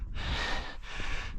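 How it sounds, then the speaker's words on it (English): Heavy, close panting from a hiker climbing a steep ridge in England, with two long rasping breaths in quick succession and no talking. "In advance, I apologise for all the panting you're gonna hear going up here."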